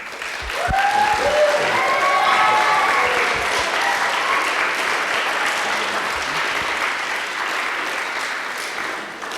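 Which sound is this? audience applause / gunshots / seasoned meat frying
audience applause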